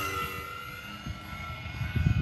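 FMS Maule 1500mm RC model plane, a scale general aviation aircraft in flight, a droning electric motor whine holding steady and then swelling louder near the end as it passes closer.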